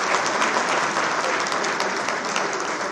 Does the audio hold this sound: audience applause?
yes